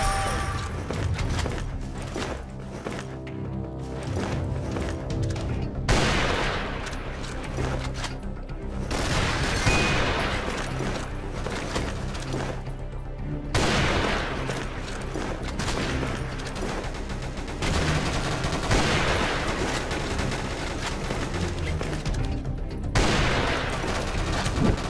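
Dense, sustained gunfire from an F2X sniper rifle and other guns in the online shooter game Chiến Dịch Huyền Thoại, with rapid bursts, booms and machine-gun fire filling the mix continuously at a loud level.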